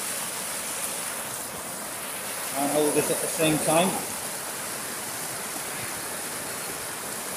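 Stream water flowing in Matka Canyon, a steady broad rushing wash heard nearby throughout, with someone briefly talking over it midway.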